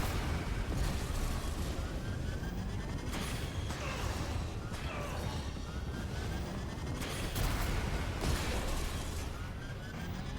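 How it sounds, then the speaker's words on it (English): A super missile fires and explodes in Metroid Prime 4: Beyond, heard as a sustained roaring barrage of bursts and booms amid dense game noise, fairly faint overall with several sharper impacts. "How about a super missile to the face?"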